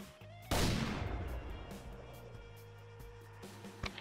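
Enemy gunfire in the Arma 3 military game: one sharp, loud blast rings out early and trails off in a long, rumbling echo, followed by a quieter, distant pop near the end.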